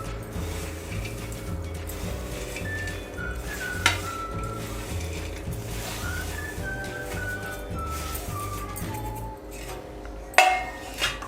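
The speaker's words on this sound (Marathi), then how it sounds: "आता हे मी सर्व साहित्य आहे ना ते मी गुळामध्ये टाकून घेते" Ingredients go into melted jaggery in a pan for dink coconut ladoo and are stirred, giving steady scraping, soft clinks and a low background hum with occasional louder knocks of utensil against pan.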